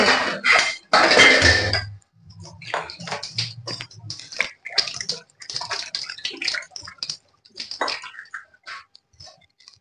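Dishes are being washed by hand with water, with bursts of running water, clinks of pots and plates, and scrubbing in irregular spurts, close and fairly loud with gaps between.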